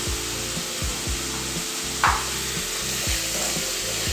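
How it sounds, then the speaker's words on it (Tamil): Onion, green chilli, curry leaves and ginger-garlic paste sauté in a pan for mushroom gravy, a steady broadband sizzle running under a repeating low rhythmic hum, with one brief sharper scrape near the middle. "இது இவ்வளோத்தையும் நல்லா வதக்கி எடுத்துக்கணும்."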